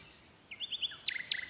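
A few quick bird chirps in the audio game Sonar Islands rising out of a soft background hiss, growing louder and denser toward the end.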